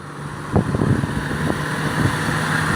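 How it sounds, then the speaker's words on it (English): A 2004 Ford F-150 regular cab with a 4.2 V6 runs with an exhaust leak at the header into the catalytic converter, a steady rumbling drone with faint ticking pulses, close and without talk. "It does have a little exhaust leak"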